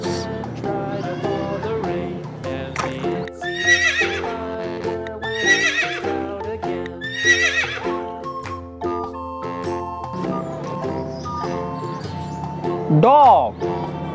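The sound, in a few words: horse neighing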